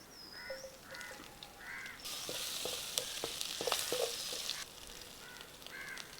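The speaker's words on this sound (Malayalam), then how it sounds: "ഇതേ പാത്രത്തിൽ തന്നെ എണ്ണ ഒഴിച്ച് ഇഞ്ചി വെളുത്തുള്ളി ചതച്ചത് മൂപ്പിക്കാം." Crushed ginger and garlic fry in oil in a pan for an Indian mussel roast, with soft crackling and a burst of louder sizzling midway. Faint bird calls are heard in the background.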